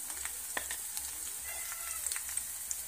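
Fried onion sizzles softly in a pan as a spoonful of chutney goes in for a village-style egg curry, with faint crackles and light stirring clicks over a few seconds.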